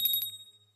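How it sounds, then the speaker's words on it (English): A small bell rings in three quick bright strikes close by, the ringing tails off into a faint fading hum. "Ring a bell and the dog drools."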